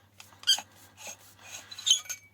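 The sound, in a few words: e-bike battery pack squeaking as pulled from casing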